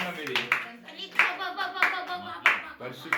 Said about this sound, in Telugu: చప్పట్లు కొట్టి దేవుని మహిమపరచండి